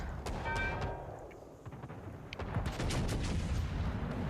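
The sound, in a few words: battleship gunfire broadside in a naval video game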